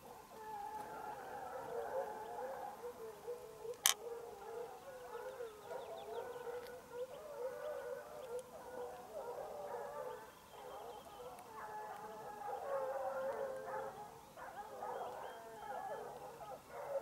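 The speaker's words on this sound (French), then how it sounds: "Les chiens sont en face de nous là." A pack of Ariégeois hunting hounds bays during a hare hunt in the Drôme Provençale, a faint, distant chorus of overlapping howls and yelps that continues throughout, with one sharp click partway through.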